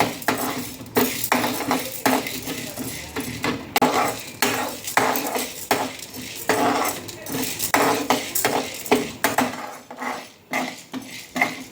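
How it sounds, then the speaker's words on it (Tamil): Chana dal roasting in a pan, a metal spatula scraping and clinking against the pan in a steady irregular rhythm, close and fairly loud throughout. "கடலைப்பருப்பை நல்லா முருகலாக வறுத்துக்கோங்க"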